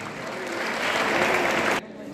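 A hall audience at a district event bursts into loud, dense applause that holds steady for nearly two seconds and then cuts off sharply.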